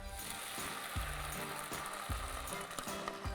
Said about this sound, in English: And you want to fry the tomato paste in the oil.